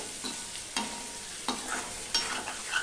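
Ginger paste, tomato and green chillies are sautéed in a pan, a soft sizzle broken by four distinct stirring scrapes spaced about a second apart, fairly quiet and without speech.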